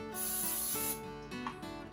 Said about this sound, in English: I'm using an olive oil spray, and coat the bottom of your